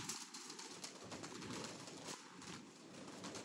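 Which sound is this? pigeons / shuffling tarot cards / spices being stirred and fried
pigeons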